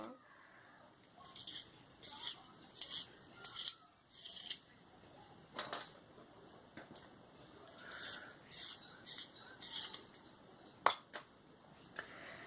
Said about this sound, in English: I use this pencil sharpener just to sharpen the lead of the pencil